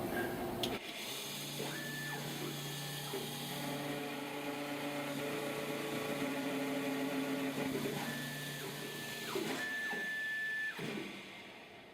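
A key cutting machine cuts a 2014 Camaro key from a key code, giving a steady mechanical whir with a thin high whine that runs close and continuous for about eleven seconds.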